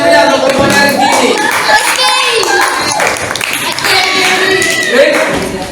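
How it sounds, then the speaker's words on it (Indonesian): Classroom applause for a student group: a steady burst of clapping from the class fills the whole clip, with a teacher's voice and children's voices over it. "Berikan tepuk tangan yang meriah untuk kelompoknya Rizky"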